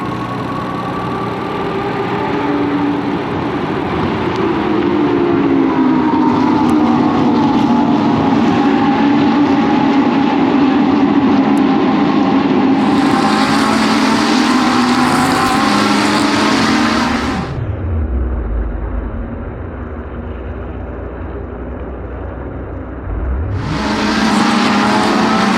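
Race cars at the start of race 1 at Sebring, with engines droning loudly and steadily up close as a pack pulls away, then pitches sweeping down as cars pass by, followed by a fresh surge of revving.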